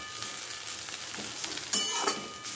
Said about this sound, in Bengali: দেখো আমার আলু ভাজা হয়ে গেছে